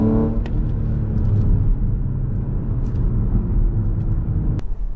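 A tuned Audi S5 Sportback with a turbocharged V6 engine, modified to Stage 2, holds a steady, loud revving drone. A brief click comes near the end.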